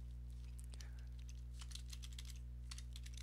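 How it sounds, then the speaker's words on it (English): Computer keyboard typing, a quick run of light, irregular key clicks over a steady low electrical hum with no talking. "That sound of the typing right now is me messaging him and not me creating a poll"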